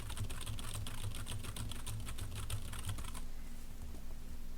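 Rapid, close clicking of a computer keyboard being typed on in quick uneven bursts for about three seconds, then stopping and leaving only quiet room tone.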